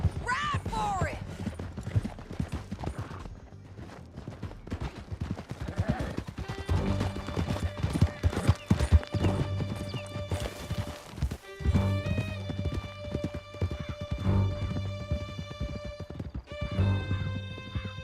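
Horses gallop in a Red Dead Redemption 2 canyon chase, a dense run of hoofbeats with whinnies, sustained and loud through the clip under game music, with talk over it.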